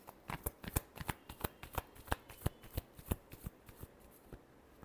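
A tarot deck is shuffled close by, with a regular series of sharp card snaps and riffles at an even pace, alone without speech.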